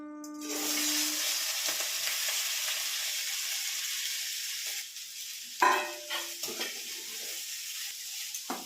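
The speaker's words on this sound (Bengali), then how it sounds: "এবার দিয়ে দিব আমার ম্যারিনেট করা চালটা।" Marinated rice hits hot ghee with cloves for a sweet pulao, giving a loud steady broadband sizzle for about five seconds, then a few clattering stirs and scrapes of the pan.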